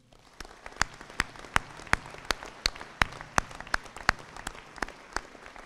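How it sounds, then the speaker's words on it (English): At a community salute-to-service ceremony, sparse individual claps ring out in a steady, fairly regular rhythm, each sharp and distinct against a quiet hall rather than a full ovation. "Please join me in a round of applause for these professionals"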